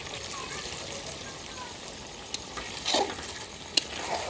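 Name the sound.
spiced water added to sizzling goat meat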